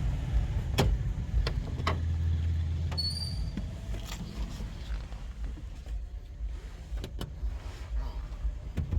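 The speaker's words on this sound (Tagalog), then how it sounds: "Dito na ako sa sasakyan." Inside a parked car, muffled thumps and clicks, a short electric hum like a power window and a faint high chime sit over a low steady cabin rumble, with no talking.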